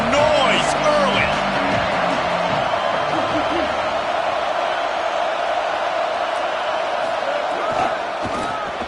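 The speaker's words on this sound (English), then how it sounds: "This crowd bringing the energy and noise early." Stadium crowd noise from the NCAA 25 college football video game: a loud, steady roar of cheering fans holding across the whole stretch, with a few brief whoops early on.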